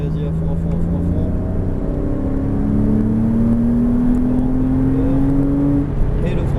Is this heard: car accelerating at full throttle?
yes